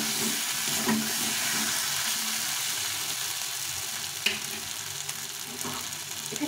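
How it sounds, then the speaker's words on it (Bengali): Water poured into spice paste frying in oil for a Bengali shol fish curry, giving a steady broad sizzle and bubbling hiss throughout, fairly close, with a couple of small clinks and no talk. "এখন জল দিয়ে দিই।"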